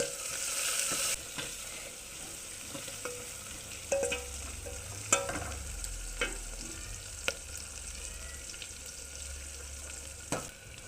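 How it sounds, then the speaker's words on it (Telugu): Sliced onions fry in hot oil in a pan for methi rice, a soft steady sizzle punctuated by scraping clicks of a spoon stirring at irregular intervals, close and quiet. "ఎర్రగడ్డలు వేసుకొని బాగా ఇట్లా కలుపుకోవాలి."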